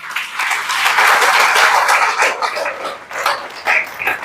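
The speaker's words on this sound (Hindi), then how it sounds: "एक बार तालियां बजाओ सर के लिए।" Audience applause at an RCM business gathering in Khurja for a local man, loud close clapping from a crowd that swells, dips briefly, then picks up again in uneven bursts.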